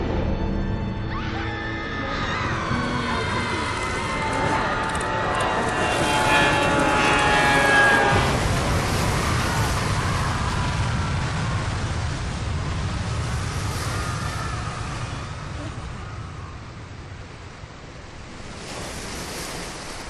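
Ocean aftermath of a plane crash in the Atlantic in the video game Bioshock, a loud roaring wash of surf and wind with swelling rumble and fading tonal rings, continuous throughout.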